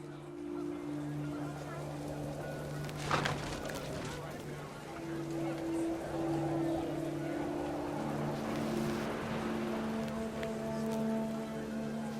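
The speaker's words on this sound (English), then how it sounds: "The rain came down in buckets then," Steady rain patters across the whole stretch in the video game What Remains of Edith Finch, with a low droning hum and a brief sharp knock partway through.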